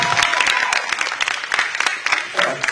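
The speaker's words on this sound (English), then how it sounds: "Let's give Nicole a round of applause." An audience at a Teacher of the Year finalists ceremony applauds with sharp, uneven claps that are fairly close, with some voices mixed in.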